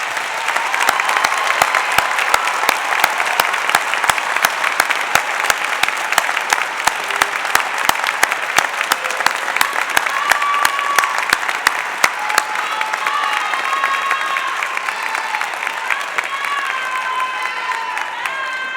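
A convocation hall crowd gives graduates a long, loud, dense round of applause at a fall degree ceremony, the clapping sustained throughout and fading slightly toward the end.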